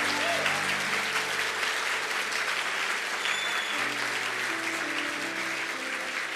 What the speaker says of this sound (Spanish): Vamos, denle ese fuerte aplauso a Jesús.